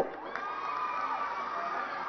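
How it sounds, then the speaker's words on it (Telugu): A crowd cheers, applauds and shouts at a large Bathukamma festival celebration in Telangana, a sustained wash of voices and excitement heard from some distance, with no talking over it. "గట్టిగా చప్పట్లు"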